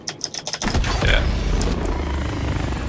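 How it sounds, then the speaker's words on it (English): A supply helicopter in Call of Duty: Modern Warfare passes close by with a loud, continuous rotor roar and engine rumble that swells after a few rapid chopping beats, while players talk over it. "Ooh, supply choppers?"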